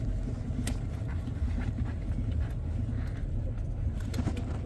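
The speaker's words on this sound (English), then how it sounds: "That's my motorcycle." An unregistered motorcycle's engine gives a steady, loud, low rumble throughout, with a few faint metallic clicks on top.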